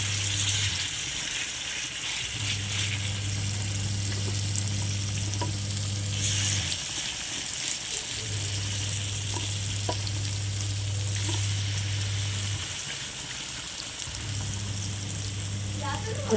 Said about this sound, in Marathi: गाबोली फ्राय करायला टाकलेली आपण.